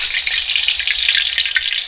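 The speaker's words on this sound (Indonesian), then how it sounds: "Ini akan kita goreng dulu" Thin slices of tempe frying in hot oil, a loud, close, steady crackling sizzle that runs without pause and has no speech over it.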